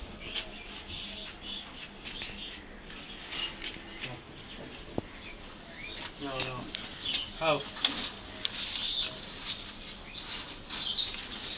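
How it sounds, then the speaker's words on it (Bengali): Pigeons coming in to feed at a home, with bursts of wing flapping and soft coos and chirps near and close, while a person talks over them at times. "সবগুলো কবুতর চলে আসছে এখানে।"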